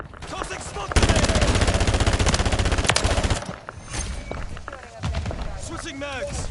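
Sustained rapid automatic gunfire from a Call of Duty Modern Warfare III match, a loud dense burst lasting a few seconds, then dropping to scattered combat sounds and shouted voices.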